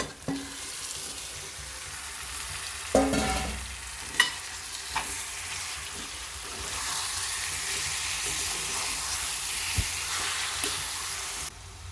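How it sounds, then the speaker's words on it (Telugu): Masala-marinated chicken tipped into a pan of fried onions and ginger-garlic paste, with a few thumps and scrapes over a continuous close sizzle that grows slightly louder in the second half. "ఇప్పుడు మసాలాతో కలుపుకున్న చికెన్ వేసుకోవాలి"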